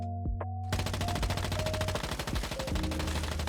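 Rapid automatic fire from the MPS5 Kumawink bounce SMG in the video game Once Human, a fast, evenly spaced stream of loud shots starting after a brief quiet lead-in, over steady game tones.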